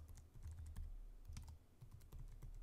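Fingers type on a computer keyboard, producing faint, soft keystrokes in a steady irregular patter with no talking.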